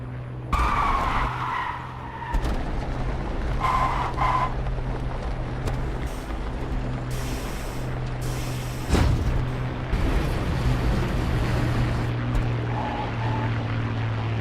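An aircraft with a dead engine touches down on a runway in the DCS flight simulator game, with tyre skids and mechanical clatter over a steady low hum, and several sharp impacts during the landing.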